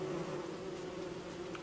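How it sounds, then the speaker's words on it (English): Bees buzz steadily in Don't Starve, a faint continuous insect drone with a few slightly louder passes, heard alone without speech. "When the bees are on the ground like this, they can still aggro you"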